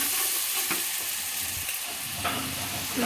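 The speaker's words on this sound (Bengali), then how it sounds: "পেঁয়াজ বাটা আদা বাটা একটু মিশিয়ে নিলাম" Onion and ginger paste sizzle loudly in a hot frying pan as a utensil stirs them, with scraping strokes heard over a constant frying hiss.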